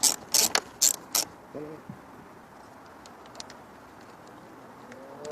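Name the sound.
10mm socket ratchet removing air box bolts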